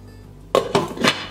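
A lid is set down on a cooking pot of stuffed pepper soup, giving three close, distinct metallic clanks in quick succession after a moment of quiet.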